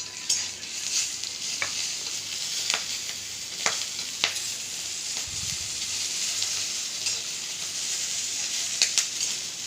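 Green chillies, nigella seeds and salt frying in hot oil, a continuous bright sizzle with occasional sharp pops and a few scraping stirs, close and steady.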